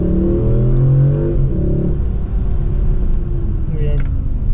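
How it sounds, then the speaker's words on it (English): A car engine with stock exhaust hums and rumbles quietly from inside the cabin as the vehicle drives on Pirelli SottoZero winter tires, the pitch shifting with gear changes and speed. "Hopefully you can hear this car. It does sound pretty good"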